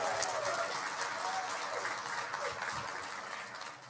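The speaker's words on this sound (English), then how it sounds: "Let's give Chris and the entire culinary team a huge round of applause." A crowd applauds the culinary team at Cedar Point's 150th anniversary announcement, a steady wash of fairly faint clapping that holds for the whole stretch and thins slightly at the end.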